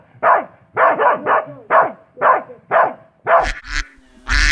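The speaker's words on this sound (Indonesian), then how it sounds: "anjing" A dog barks in a rapid series of about nine sharp, close barks, evenly spaced, with a few higher yelping notes near the end.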